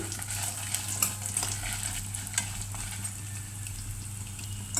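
Dried red chilies frying in a pan with other seasonings, a soft steady sizzle under a low hum, with light intermittent stirring and clinks, close and fairly quiet.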